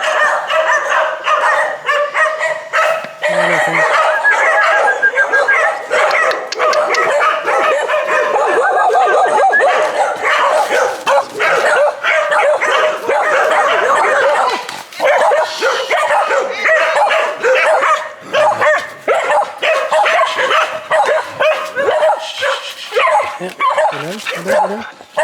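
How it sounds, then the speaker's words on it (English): Several dogs bark and yip excitedly in the Peruvian jungle, loud and close in rapid, overlapping bursts with whimpers between them, and people talk among the barking. "Prepare for the dogs."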